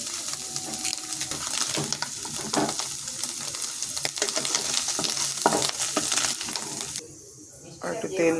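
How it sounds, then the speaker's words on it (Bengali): Paneer frying lightly in hot oil in a pan, a steady close sizzle with scraping and stirring clatter throughout, briefly dipping quieter near the end before the sizzle resumes. "আর পনিরটা হালকাই ভাজতে হবে"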